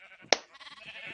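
A Minecraft sheep bleats in a field of dyed rainbow-colored sheep, a short wavering bleat that is clear and fairly close, with a sharp click just before it.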